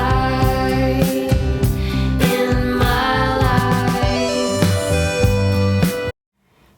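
A full compressed music mix plays continuously at steady loudness, with brief dips where the over-triggered compressor ducks the whole mix, then stops abruptly near the end.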